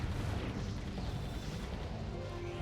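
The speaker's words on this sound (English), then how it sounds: "Lots of fully upgraded cannons, which is great." Cannons fire in the tower-defense game Defense Grid: The Awakening, a dense, continuous low rumble of overlapping booms and blasts that stays heavy and steady throughout.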